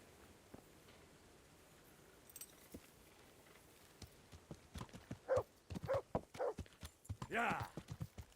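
Horse hooves clip-clop in the video game Kingdom Come Deliverance, a rhythmic run of sharp, close hoof strikes that builds in the second half, with a whinny near the end and speech around it.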